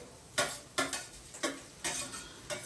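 Egg rice frying in a pan is stirred in regular strokes, each scrape bringing a short burst of sizzle, about six evenly spaced pulses over a soft background hiss, with no talking.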